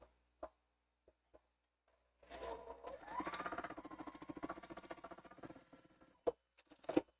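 A sewing machine stitches a 'Farmer's Stars' wall quilt, its thread tension off so the fabric ruffles, running in a steady rapid whir for about four seconds after a few scattered clicks, with more sharp clicks and taps as it stops.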